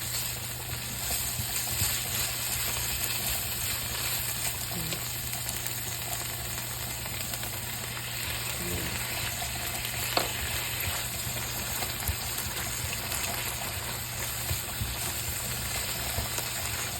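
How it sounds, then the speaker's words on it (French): Steady sizzling and frying of a spaghetti sauce in a pan as boiling pasta water is added, a continuous close hiss with faint stirring and no talk. "je vais prendre un peu d'eau de mes pâtes qui sont en train de bouillir et je vais le rajouter"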